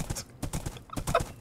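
Hooves of a horse in the Minecraft video game clip-clop in a quick, even rhythm of close, crisp thuds with a faint whinny near the end.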